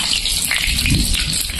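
Bay leaves are dropped into hot oil for a jackfruit and shrimp dish, giving a dense, close, continuous sizzling hiss that stays steady and loud throughout.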